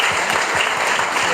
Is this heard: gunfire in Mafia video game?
no